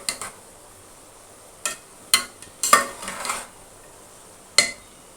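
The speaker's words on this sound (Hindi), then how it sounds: "ये मैं किशमिश ऐड कर रही हूँ, अब इन सबको हम कर लेंगे अच्छे से मिक्स।" Spoon clinking and scraping against a pot while raisins are mixed into zarda sweet rice, several sharp metallic knocks spaced irregularly with quiet gaps between.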